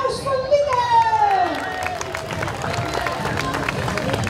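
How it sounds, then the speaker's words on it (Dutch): Crowd at a school gala clapping and cheering loudly, with children shouting and a sustained roar of applause that stays busy and dense throughout, a voice briefly audible near the start. "Een applaus voor"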